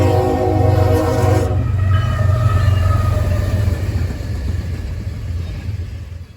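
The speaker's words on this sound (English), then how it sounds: "The fourth train has a 700 series -9 in H3 paint." BNSF intermodal freight train passing in St. Cloud, Minnesota, loud and close, opening with a blaring multi-tone horn blast for about a second and a half, then a steady roar of rolling cars and rail clatter.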